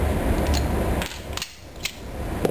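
An STI Trojan 9mm pistol is pulled apart by hand, giving a few sharp metallic clicks and clacks of slide and parts against a steady background hum, brief and close.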